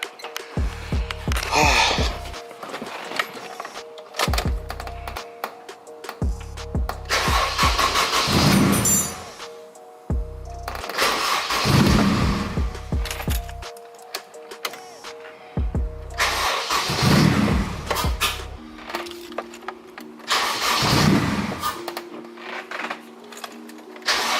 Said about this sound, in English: Alright, car is on.